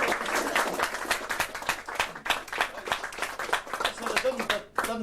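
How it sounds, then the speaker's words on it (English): Live studio audience applauding during a local radio broadcast, brisk close clapping over about five seconds, mixed with a few voices and a brief pause near the end. "Another round of applause."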